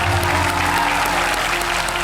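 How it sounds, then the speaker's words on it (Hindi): A studio audience on the Kaun Banega Crorepati quiz show applauds loudly, dense sustained clapping from many hands that fills the space evenly throughout, with no voices over it. "बहुत जोर शोर से आपने ताली बजाई"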